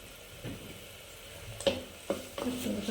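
A spoon stirs ginger curry with tamarind water and asafoetida in a pan, scraping against the metal three times in quick succession over a faint, steady sizzle.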